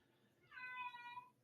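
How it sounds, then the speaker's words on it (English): A cat gives a single short meow, clear but fairly quiet, with no talking over it. "my cat said no"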